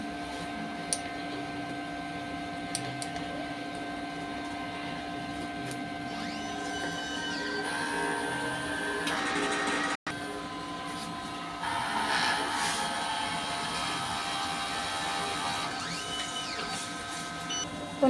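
DTF printer, a 60 cm machine, runs a head clean cycle: steady mechanical hum with whirring motor passes and a brief click, moderately quiet and continuous.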